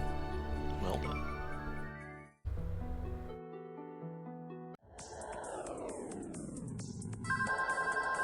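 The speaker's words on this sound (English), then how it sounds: "A cell phone suddenly rings in the silence." A cell phone rings in a quiet scene of the horror video game Scar of the Doll, with tonal electronic ringtone notes and bell-like tones against layered game music and ambience.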